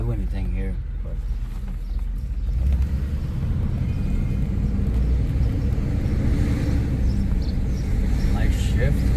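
A 1990 Cadillac Brougham with a 5.7L TBI V8 driving and accelerating, a steady low engine and road rumble heard from inside the car, with people talking over it.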